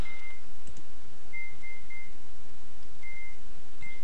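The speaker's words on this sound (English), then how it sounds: "Constant beeping of supplies." Short electronic beeps signalling supplies in the war strategy game Command Ops, a high tone repeating in brief bursts and small clusters over a loud, steady noisy background.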